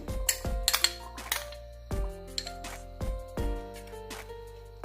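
Dry chickpeas tipped into a bowl of squeezed sweet potato pieces, bright hard clinks and rattles landing in several separate bursts, each ringing briefly before the next pour, close and clear with no talk.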